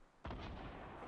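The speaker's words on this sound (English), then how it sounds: "We're getting shot at now." One loud, booming gunshot in the Fortnite battle royale game, with a sudden sharp onset and then a long rumbling tail that fills the rest of the moment.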